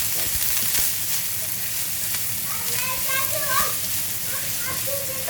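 Finely diced onion sizzles loudly in hot oil while cooking bhindi masala, a dense continuous hiss with a voice speaking over it.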